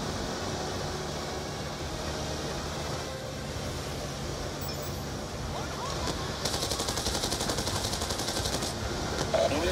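Enemy gunfire in a Black Ops 2 Strike Force convoy mission: steady machine-gun bursts layered with a constant fan-like noise bed, getting louder and denser toward the end.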